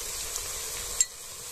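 Chopped onion and green chilli sizzle in hot oil for ghugni, a steady soft hiss with one brief sharp crackle partway through, no voices.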